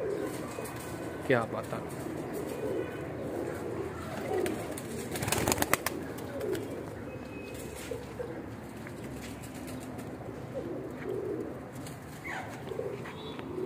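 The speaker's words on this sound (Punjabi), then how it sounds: "ਐਸ ਐਲ ਕੋਟੀ ਕਬੂਤਰ ਜੇ ਮਾਸ਼ਾਅੱਲਾ" SL Koti pigeons coo softly in a loft, low rounded calls repeating among background rustle and a brief clattering burst, with someone speaking over them now and then.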